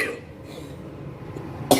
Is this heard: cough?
yes